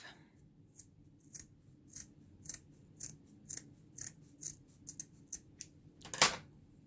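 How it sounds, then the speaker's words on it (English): Scissors snip cloth in a steady run of short, crisp cuts over a faint low hum, ending in one louder, sharper snip. "take your scissors and cut it in half"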